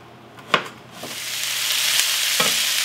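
Zucchini and onions frying hibachi style, a loud hiss swelling as the vegetables hit the hot surface, with a few clacks of a utensil stirring them and the sizzle holding steady, no talk.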